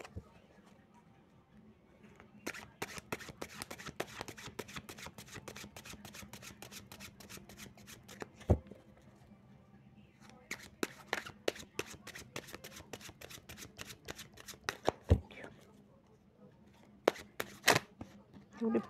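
Tarot cards are shuffled in repeated bursts of fast riffling and slapping, close to the listener, separated by brief pauses and sharp taps.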